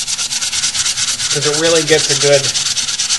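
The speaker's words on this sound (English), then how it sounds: "Now I like to sand it in all four directions. Up, down, left, to right," A PCB board sanded by hand in several directions, a close, rhythmic scratchy rubbing with a short spoken remark over it partway through.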